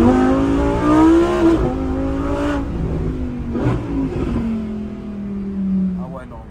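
A car engine revs and accelerates hard, its note climbing and falling steadily and loudly through the gears toward the rev limiter, close by, over several seconds.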